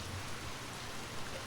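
Storm rain at night, set in a horror story, falls as a steady, fairly loud broadband hiss with no pauses and no voices.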